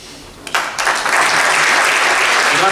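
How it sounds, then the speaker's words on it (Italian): Audience applause at a 2019 book award ceremony: a dense wash of clapping builds within the first second and holds steady and loud to the end, with no voices over it. "Un applauso ancora a Paolo Bianchi"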